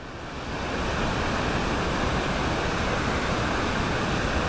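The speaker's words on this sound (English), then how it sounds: "This is one of the greatest waterfalls we've ever seen" Thundering water from a large waterfall on Big Beaver Trail builds quickly, then holds as a loud, broad, unbroken rush, with no one speaking.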